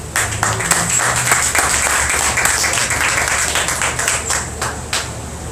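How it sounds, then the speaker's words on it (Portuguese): A church congregation applauds in praise, a steady wash of many hands clapping loudly and continuously throughout, with no voices standing out. "Dê uma salva de palmas ao Senhor."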